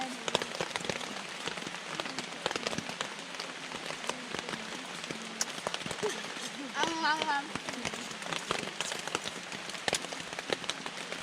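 Heavy rain pours steadily on a tent during an overnight hiking trip in Zaleski, a dense constant patter with someone talking now and then over it.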